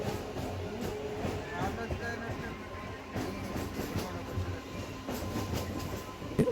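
A Secunderabad-Warangal MEMU train pulling away after its stop at Station Ghanpur, a quiet, even rumble of wheels and carriage with soft rhythmic clacking and a faint steady tone, heard from on board.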